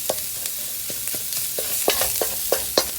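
Chinese fried rice with corn being stir-fried: a spatula scrapes and taps the pan in irregular strokes over a steady sizzle, close and fairly loud, with no talk.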